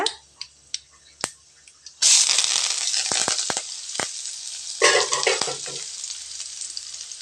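Chopped onions and curry leaves hit hot oil in a pan for rava dosa batter, bursting into a loud steady sizzle with stirring scrapes after a few faint clicks, then dropping to a softer sizzle.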